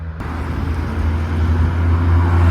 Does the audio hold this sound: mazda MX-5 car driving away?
yes